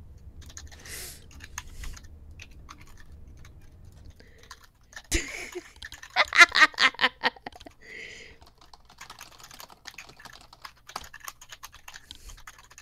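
Rapid, furious typing on a computer keyboard fills the stretch with dense, close clicking, rising to a run of loud, hard-struck keystrokes midway before returning to steady, lighter tapping.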